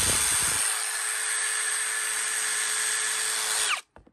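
A Ridgid R862311B cordless impact driver runs in one continuous high-pitched whine for several seconds, close and loud, then stops abruptly with a short clatter.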